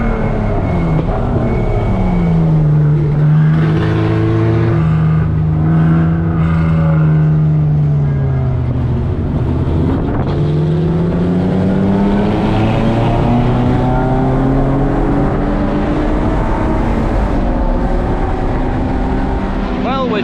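Endurance race cars run on the track at Barber Motorsports during a Lemons race, their engines droning loudly and shifting pitch as cars pass and accelerate, with a steady mechanical roar throughout.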